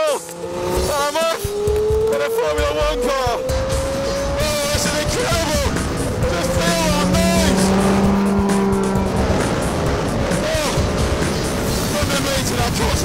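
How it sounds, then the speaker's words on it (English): Renault Formula One car driving, a high-revving engine climbing and dropping through gear changes with tire squeal, loud and close, with a voice speaking over it. "here we are, my very own Formula One car"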